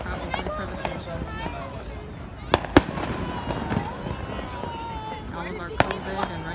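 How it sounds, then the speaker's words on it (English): Fourth of July fireworks pop and crackle at a distance near a hospital building, with sharp scattered bangs and sizzling bursts over a continuous bed of people talking nearby. "So that's fireworks for them."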